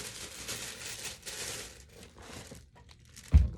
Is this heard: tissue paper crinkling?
yes